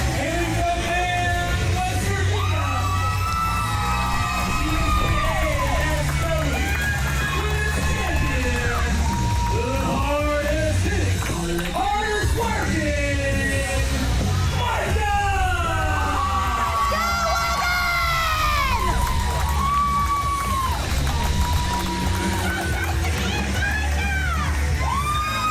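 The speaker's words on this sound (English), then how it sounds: "this crowd definitely cheering for Micah" A wrestling crowd at a birthday and Christmas bash cheers, whoops and yells steadily throughout an intergender match, a dense, loud roar of many voices with shrill shouts rising above it.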